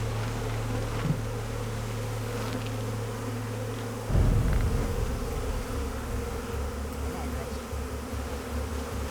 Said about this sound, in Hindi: यहाँ बहुत सारी मधुमक्खियां हैं, बात करना मुश्किल है अभी।